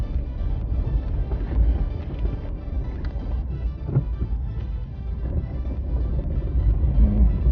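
A car driving in second gear during a driving lesson, a steady low engine drone with road rumble and a little wind noise, heard from inside the cabin and rising slightly toward the end.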